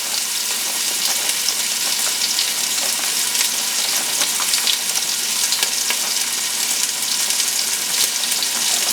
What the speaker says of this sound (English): Now that we had our oxtail searing a bit